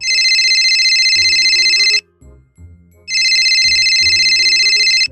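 A cartoon telephone ringtone blares in two loud, shrill electronic bursts separated by a short gap, with a faint low voice murmuring underneath.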